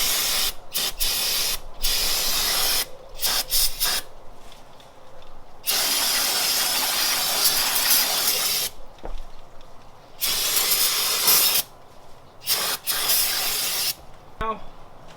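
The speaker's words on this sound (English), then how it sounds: "Gonna spray this down a little bit," Aerosol cleaner sprayed onto a car engine during a valve cover and intake manifold gasket job, heard as several loud, close hissing bursts of varying length separated by short pauses.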